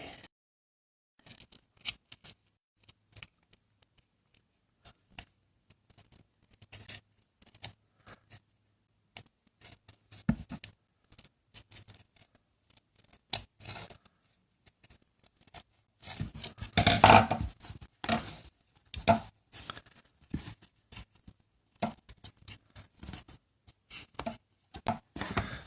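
A linocut block carved by hand with a cutting tool during a live printmaking demonstration, producing sparse, close scraping and clicking cuts in irregular bursts that cluster thickly near the middle and are separated by quiet gaps.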